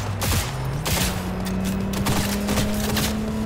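Gunfire in Cyberpunk 2077, a rapid burst of loud close shots followed by further sharp reports over mechanical clatter and a steady humming tone, with no talk.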